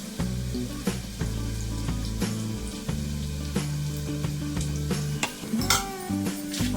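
Onions fry in oil for a green moong dish, with a steady loud sizzle and crackle up close and repeated scraping stirs of a spoon against the pan, over a constant low hum and without any talk.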